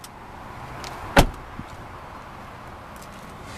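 A single solid thunk as a 2014 Nissan Pathfinder Platinum 4WD SUV door shuts, close and sharp, followed by a faint knock and then quiet background.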